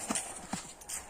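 A young horse from a Karabayir bloodline is led on foot, its hooves giving a few quick, close clip-clop knocks on hard ground, with faint murmured voices in the background.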